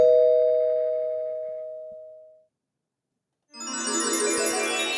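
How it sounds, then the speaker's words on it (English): A doorbell chime rings out with a clear sustained tone that slowly decays, then after a brief silence a brighter, buzzier electronic ring starts up and holds steady. "let's see if I hit the doorbell, see if you can hear it"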